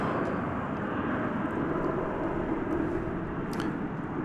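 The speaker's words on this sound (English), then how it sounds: "American Flight 78 was that the 777-200ER" An American Airlines Boeing 777-200ER at DFW airport at night gives off a steady low engine roar, distant and even in level, with no voices over it.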